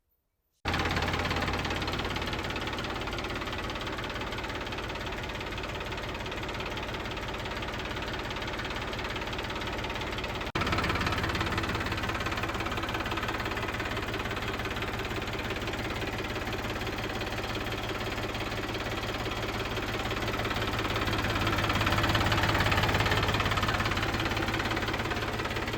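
A Kubota MU4501 tractor engine idles steadily close by, a continuous low rumble with a slight knocking beat that shifts a little partway through and swells briefly near the end, with no talk.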